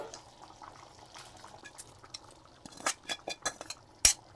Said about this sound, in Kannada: ನೋಡಿ ಇವಾಗ ಹಾಗಲಕಾಯಿ ಹಾಕ್ತಾ ಇದ್ದೀನಿ, ಹುರಿದಿಟ್ಟಿರೋದು